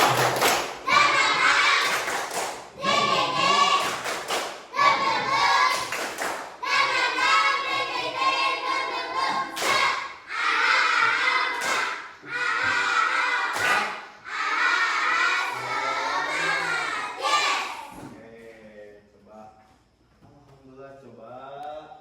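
Fourth-grade schoolchildren in a classroom chant the rhythmic 'tepuk semangat' clapping routine together, loud group voices punctuated by sharp synchronized claps and thumps, ending in scattered quieter voices and a few late claps.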